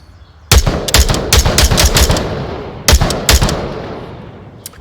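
Rifle fire in a VR shooting video game played with a gunstock: loud, sharp shots in a rapid burst of about ten, a pause, then two more quick shots, each with a short echoing tail.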